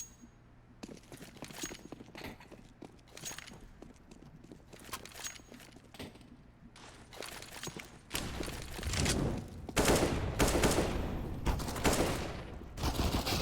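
Gunfire from a Mac-10 and AK-47 during a competitive Counter-Strike match, with rapid shot bursts and footsteps in the first half, then a louder, denser volley of sustained shooting toward the end.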